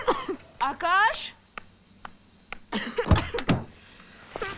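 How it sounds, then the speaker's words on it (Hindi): A person coughs several times in short, harsh bursts at close range, between moments of speech in a quiet room. "तुम्हारी खांसी अब तक ठीक नहीं हुई?"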